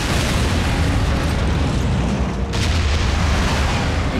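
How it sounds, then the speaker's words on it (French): A proximity bomb goes off in an animated Transformers Prime scene, a loud, sustained wall of blast noise and rumble that holds steady for several seconds with a brief dip partway through. "Une bombe de proximité."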